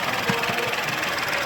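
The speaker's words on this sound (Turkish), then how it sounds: "Arkadaşlar motorun sesi bu şekilde gayet" An Opel Corsa 130 hp petrol engine idles steadily nearby, a smooth, even hum with a faint low pulsing throb and no other sounds.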